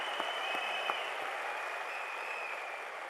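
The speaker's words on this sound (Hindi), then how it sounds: "जोरदार तालियों से आपका धन्यवाद करता हूं।" Sustained clapping from a sizable audience at a seminar in Delhi, fairly distant and even, with a few sharper individual claps standing out near the start.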